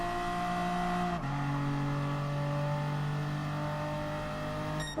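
Race car in Gran Turismo Sport, engine held at a steady high drone with a brief drop at about one second, then pulling again through a corner, loud and close with no talk.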